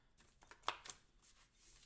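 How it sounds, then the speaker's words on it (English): Playing cards being shuffled, a few quick riffling bursts with two sharper snaps near the middle, faint and close with no voice over them. "I'm having a lot of problems shuffling."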